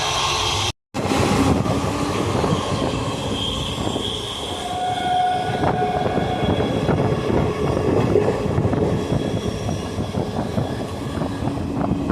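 Onboard rumble of the Tiruvannamalai–Tambaram express train in motion, a steady broadband roar with wheel-on-rail clatter throughout and a brief dropout near the start, with no talking.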